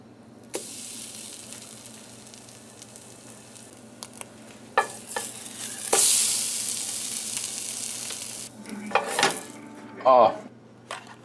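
Shelf-stable breakfast food toasting on a camping pan, a quiet low sizzle broken by clinks and scrapes of utensils, with a louder burst of frying and metal clatter near the end.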